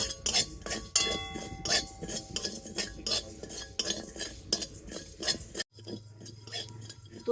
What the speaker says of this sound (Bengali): এই মশলাটা প্রথমে আমি শুকনো কড়াতে দিয়ে দেব। তো মশলাগুলোকে একটু ভেজে নেব।